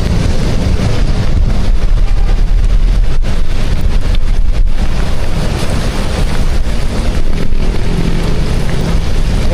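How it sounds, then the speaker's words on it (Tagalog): Heavy rain during the wet season, a loud, steady, unbroken roar with wind buffeting the microphone throughout, no voices. "Grabe, lakas ng ulan."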